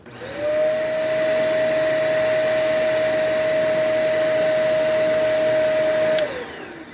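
A Shark vacuum cleaner motor spins up to a steady, loud whine with a constant high tone, runs for several seconds, then cuts off and winds down.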